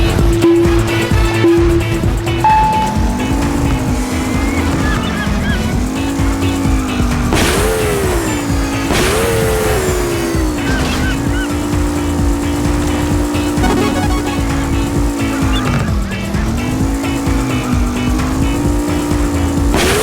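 Racing video game Blaze Rush with continuous roaring car engines rising and falling in pitch, tire squeals and skids, loud and unbroken throughout with no talking.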